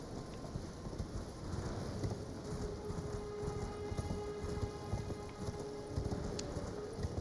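Horse hooves clip-clopping at a steady gallop while riding in Elden Ring, a continuous rhythmic patter under steady ambient game sound.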